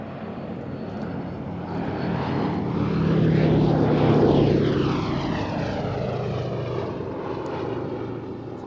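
A vintage G-version bomber with a chin turret flies past at Cosford Airshow, its propeller engines a loud, steady droning roar that swells toward the middle and then eases slightly, with no talk over it.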